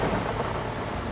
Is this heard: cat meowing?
no